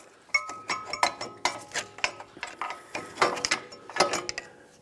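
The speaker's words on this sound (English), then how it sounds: "Now you can pry the caliper right off." Metal clinks and ratcheting clicks as a small pry bar levers a front brake caliper off the pads and bracket on a 2012-2020 Ford Focus, a quick close series of sharp taps and scrapes.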